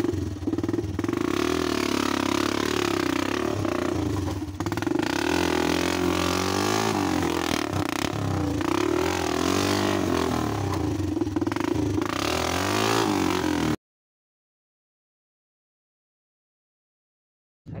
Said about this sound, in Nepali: आज चाहिँ मैले साइलेन्सर निकालिदिएको यो अब साइलेन्सर निकालेर चलाम कस्तो आउँछ है साउन्ड डेन्जर लाउड आउँदो रहेछ